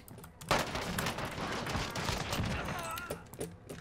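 Video game gunfire crackles in a fast, dense volley of shots, fairly close and continuous for a few seconds, with a player's voice talking over it.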